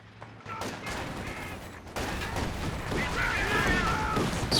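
Flak half-track firing at long range in the Company of Heroes 2 battle, a dense spread of distant gunfire and explosions building in intensity and mixed with other battle noise.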